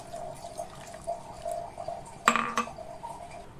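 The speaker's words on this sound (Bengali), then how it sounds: "এখন একটু গরম জল দিয়ে ভিজিয়ে রাখবো।" Warm water is poured into a mixer jar over black and yellow mustard seeds, a short splashing burst near the end of a quiet kitchen moment, close by and with no talking.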